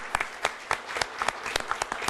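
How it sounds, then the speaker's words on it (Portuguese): Sparse, scattered hand claps from a small crowd at a Brazilian public-service program event, a handful of separate claps rather than a full ovation, moderately loud and close. "queria uma salva de palmas também para o Duarte Moreira"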